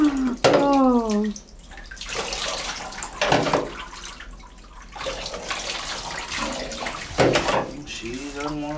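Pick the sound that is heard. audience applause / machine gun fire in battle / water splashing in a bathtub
water splashing in a bathtub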